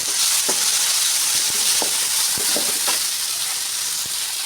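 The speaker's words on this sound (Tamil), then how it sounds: "பச்சை மிளகாய், வெங்காயம், இஞ்சி பூண்டு நல்லா வதங்கிடுச்சு." Green chilli, onion, ginger, garlic and mint sautéing in hot oil, a steady close sizzle with occasional stirring clicks and scrapes, no talk.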